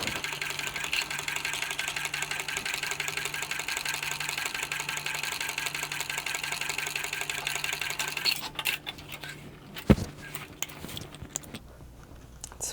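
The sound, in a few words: sewing machine stitching across the bottom of a tote bag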